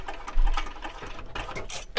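Sewing machine stitching a fabric clutch with a connector, running in a steady mechanical whir with rapid ticking needle strokes and a few heavier clunks, fairly close and alone.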